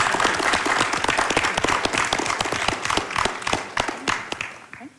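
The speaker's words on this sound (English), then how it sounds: "If you can give them all a round of applause." An audience at the HFX Taipei 2025 conference applauds a panel with dense, sustained clapping that stays loud and fills the room, then thins slightly toward the end.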